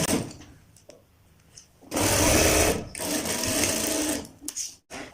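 A sewing machine stitches the waist belt of a Patiala salwar, running in two loud, steady bursts of rapid motor whirring and needle clatter, separated by a short pause, after quieter handling at the start.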